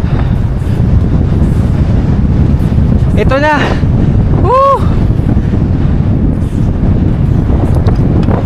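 Strong wind buffeting the microphone during a road cycling training ride on a Trek Madone SL 6 Gen 8 at about 22 km/h, a steady loud low roar throughout, with someone speaking briefly partway through.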